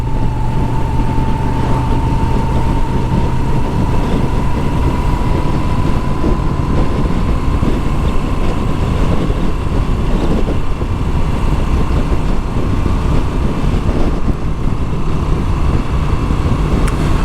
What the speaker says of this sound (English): Great to be out on the Moto Guzzi V7